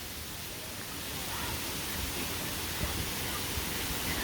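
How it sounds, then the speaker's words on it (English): Mill Creek Waterfall in the Cleveland Metro Parks, a steady broadband rush of falling water that fills the whole scene, constant and moderately loud with no other distinct sounds. "just listen to the sounds of the waterfall"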